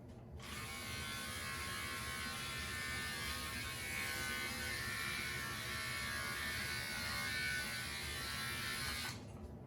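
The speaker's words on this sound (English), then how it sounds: "I think this is called just Remington hair clipper, but for shaving your head is great." A Remington hair clipper runs alone as a steady, close electric buzz, switched on at the start and off just before the end.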